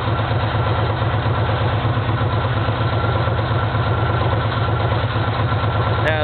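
A vehicle engine fitted with an exhaust gas temperature gauge idles steadily up close with a low, even throb, then shows a brief shift right at the end as it is shut down.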